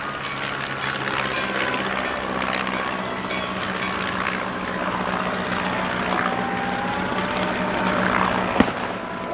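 Pyrotechnic blasts at an RC model aircraft bombing show, booming outdoors under a constant droning of model plane engines, with one sharp, louder bang near the end and no one talking.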